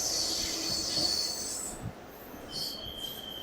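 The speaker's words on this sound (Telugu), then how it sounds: "మన ట్రైన్ యొక్క ఫస్ట్ స్టాప్ అయిన మల్కజ్గిరికి మన ట్రైన్ చేరుకుంది." A DEMU train pulls into Malkajgiri station with a loud, sustained high-pitched squeal of wheels over steady rumbling, fading briefly before a second thinner squeal rises near the end.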